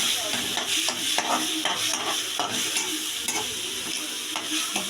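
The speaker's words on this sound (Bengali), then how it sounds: "লাউটা এবার ভাজা ভাজা মতন করে নেবো" Bottle gourd stir-fries in a pan for a vegetarian chhechki, loud close sizzling with rhythmic spatula scrapes and clacks repeating every half second or so.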